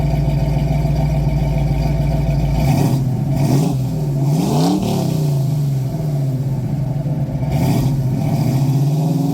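The upgraded engine of a 1970 Ford Mustang Boss 302 idles roughly, then revs up and down several times, loud and near, with a throaty mid-range growl.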